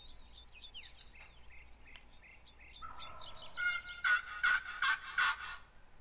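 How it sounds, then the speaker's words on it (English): In a wild turkey hunting game, a wild turkey gobbles at a moderate distance: scattered chirpy calls build into a loud, rapid rattling gobble near the end. "Now that sounds like a turkey."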